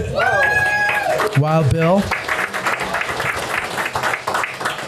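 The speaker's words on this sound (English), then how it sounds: "All right, big applause." An audience at an anniversary event claps and cheers through the whole clip, while someone speaks over the crowd near the start.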